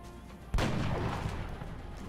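A single loud gunshot boom in the XCOM: Long War strategy game, a sharp blast followed by a long rumbling decay.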